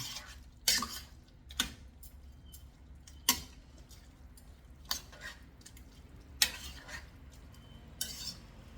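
Rice is stirred into a Hungarian dish in a pot, with a spoon making about eight sharp clinks and scrapes against the pot at uneven intervals and soft stirring in between.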